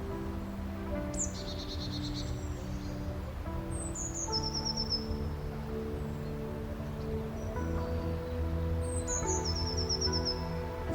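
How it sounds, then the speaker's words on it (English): Short descending bird chirps repeat every few seconds, clear and moderately close, over a steady bed of insect and cricket buzz and soft rustling in an outdoor setting, with no voices. "You are going to hear a bird chirp every few seconds."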